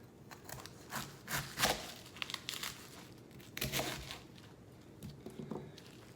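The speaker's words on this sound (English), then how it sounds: "Cut the core out." Knife cutting the core out of a cabbage at close range, with crisp crunching and crinkling bursts in uneven spurts separated by brief quieter pauses.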